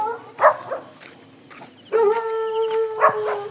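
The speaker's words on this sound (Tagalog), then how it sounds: "Ang daming aso." Several dogs on a mountain trail make a few sharp barks and then a long, wavering howl, fairly close and clear, with other dogs yelping faintly around them.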